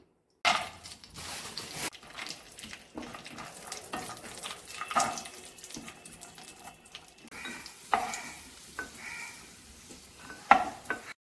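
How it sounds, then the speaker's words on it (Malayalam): Cashews and raisins frying in ghee in a pan give a steady, soft sizzle, broken by scattered clinks and scrapes of stirring, with no talk. "കാഷ്യൂനട്ടും കിസ്മിസും ഒന്ന് വറുത്ത് മാറ്റി വയ്ക്കാം."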